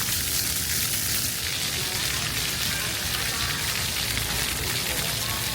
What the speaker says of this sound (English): Check out these little fountains, bro.